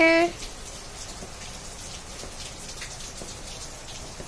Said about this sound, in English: I'm singing Rain, Rain, Go Away because it's raining today here.